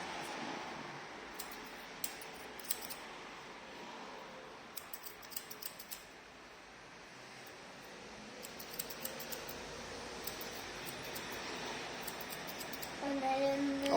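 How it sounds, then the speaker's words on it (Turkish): Hair-cutting scissors snip a man's hair in a barbershop, giving rapid, light, close metallic clicks in short clusters across the whole stretch, over a low room hum, with no clear speech. "Makas çok iyi."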